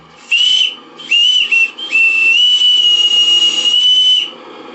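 Live steam engine regulator venting steam on a model boat built from a Krick Alexandra kit, giving a loud, close, shrill whistle-like hiss in several bursts that settles into one long steady blast before dropping away.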